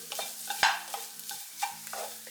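A beans, egg and grated coconut stir-fry is stirred in a pan, with a few short scraping strokes over a soft sizzle, close up and with no voices.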